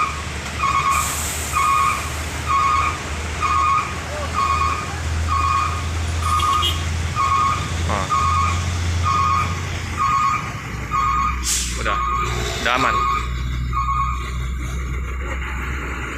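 A large intercity bus's engine rumbles low as it departs Palembang, while a regular electronic beep repeats, with a brief voice near the end.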